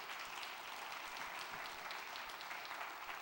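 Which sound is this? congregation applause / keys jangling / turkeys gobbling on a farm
congregation applause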